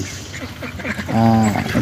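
Ducks quack in a short burst near the end while feeding on a pond bank, after a stretch of low background noise and faint chatter.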